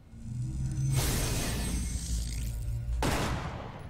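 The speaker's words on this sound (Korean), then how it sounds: "충전 사격 한번 봐봐" Charged shot from a pistol in Resident Evil Revelations 2, heard as two heavy, booming bursts about two seconds apart, each with a bright crackling, swooshing tail over low game ambience.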